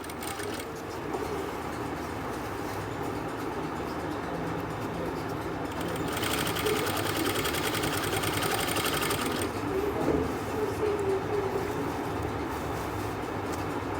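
A sewing machine stitches a Chinese collar in a steady, rapid mechanical whir that grows louder and busier for a few seconds midway, with no talking.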